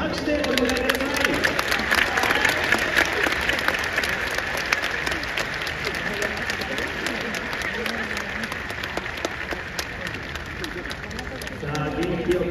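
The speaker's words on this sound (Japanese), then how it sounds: "皆さん大きな拍手でお願いください。" A stadium crowd at a J1 League football match between Nagoya Grampus and Sagan Tosu claps steadily during a kick-in ceremony, a broad continuous patter of many hands with a murmur of voices underneath.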